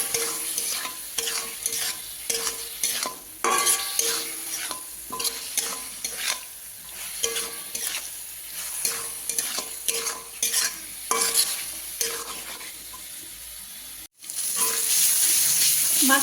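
Mushrooms fried with spice masala in a pan give a loud, close sizzle broken by rhythmic spoon scrapes and stirring knocks, the frying hiss holding steady underneath, with a brief drop near the end before the sizzle returns.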